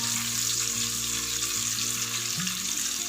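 Vadagam fries in hot sesame oil with a constant, even sizzle and crackle that stays close and unbroken throughout.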